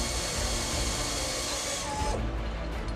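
Factory workers bolt together parts of an excavator during final assembly, with dense hissing tool noise and a loud mechanical rush in a large workshop that continues throughout, then briefly thins near the end.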